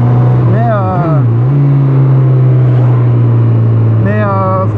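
A Honda CB1000R motorcycle engine accelerates nearby with a loud, sustained drone whose pitch sweeps up and down as it revs, and someone talks over it.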